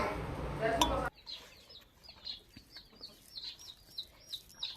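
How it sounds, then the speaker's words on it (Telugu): Chickens cluck and chirp in short repeated calls around cooking pots at an outdoor lunch, fairly close, after a brief louder noise at the start. "కోళ్ళు మొత్తం అయితే గిన్నెలు వచ్చి ముతి పెడుతున్నాయి చూడండి"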